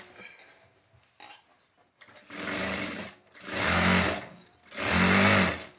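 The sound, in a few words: sewing machine stitching thread piping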